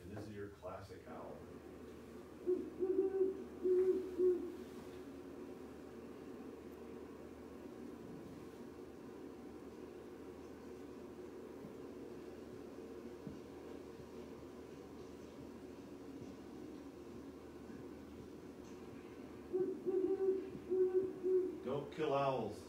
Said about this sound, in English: everybody's classic owl, and one that's common around here, you can sometimes hear them hooting from right downtown, right here, is the great horned owl.